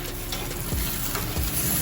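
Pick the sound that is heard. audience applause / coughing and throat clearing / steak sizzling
steak sizzling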